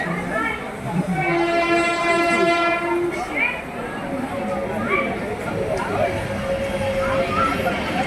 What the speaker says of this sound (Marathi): ट्रेन सुटलेली आहे दिवा स्टेशनवरून